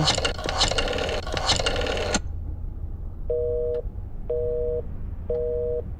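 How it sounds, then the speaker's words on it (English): Telephone busy signal in the video game Black Mirror 2: three clear, evenly spaced electronic tone bursts follow a loud burst of noisy game sound, each tone about half a second long. "Look, I just wanted to call my mother, but it was busy."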